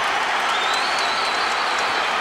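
Hockey crowd roaring at Madison Square Garden during an on-ice fight between Rangers and Capitals players, a loud, continuous wall of cheering and applause with a rising whistle-like tone threaded through it.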